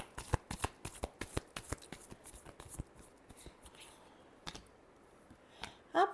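Tarot cards being shuffled by hand for a Taurus reading, a rapid run of crisp riffling flicks and taps that thins out, then a short final burst of card handling.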